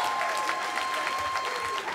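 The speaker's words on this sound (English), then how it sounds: "ready to celebrate with Jennifer and Mike, give yourself a nice round of applause right now." Wedding reception guests at a country club in Cranston, Rhode Island burst into loud, sustained clapping, a dense crowd applause that fills the room without a break.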